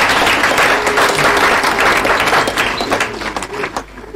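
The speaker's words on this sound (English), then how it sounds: "So a big round of applause for him." An audience at an 80th anniversary celebration for a school claps in a dense, loud burst of applause that tapers off toward the end.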